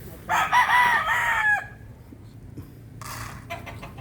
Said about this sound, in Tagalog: Ito na yung papakain natin sa ating mga inahin na kanina pa nagugutom